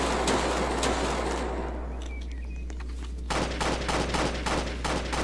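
Rapid gunfire in the Roblox video game, a dense stream of shots over a steady low hum, thinning briefly and then resuming as quick, evenly spaced pops.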